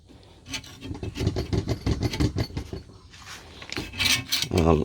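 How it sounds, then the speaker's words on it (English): Old, poorly prepared paint being scraped off a surface, a run of quick rasping strokes in close succession, then a few scattered scrapes with a short knock near the end. "Just trying to scrape off the rest of this dodgy paint."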